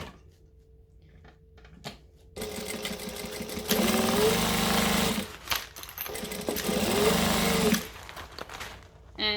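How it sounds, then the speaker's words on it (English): A sewing machine stitches around a bag in two sustained whirring runs separated by a short pause, preceded by quieter handling clicks, with no talking. "slowly stitch my way around, pulling the clips off as I go"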